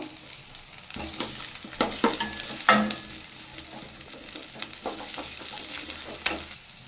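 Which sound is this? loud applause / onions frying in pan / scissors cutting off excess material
onions frying in pan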